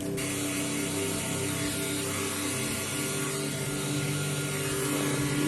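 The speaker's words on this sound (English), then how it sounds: "we're gonna take the hot air gun this time so that we can let the heat shrinking tubing shrink because of the heat" A hot air gun blows steadily while shrinking heat shrink tubing over soldered LED strip wires, a constant loud rushing fan-and-heater roar with a faint mechanical rattle throughout.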